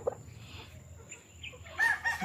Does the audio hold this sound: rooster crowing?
yes